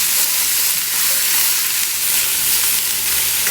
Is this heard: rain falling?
no